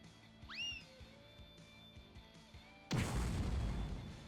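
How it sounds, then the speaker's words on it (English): An impact bomb detonates in Grandia 2, a sudden loud booming blast with a rumbling tail, following quieter game music and a rising magical whoosh. "Here goes my impact bomb."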